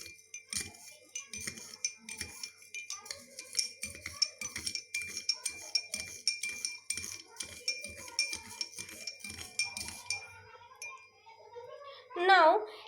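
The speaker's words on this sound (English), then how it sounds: "So I am stirring it." A spoon stirs sand in water, clinking against the container in a steady, rhythmic series of light taps, about two per second, ending with a brief louder scrape and a voice.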